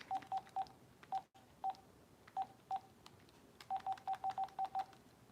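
Phone keypad dialing tones from a man calling his wife, a quick run of short beeps with brief pauses, then a longer rapid burst of tones near the end, alone without talk.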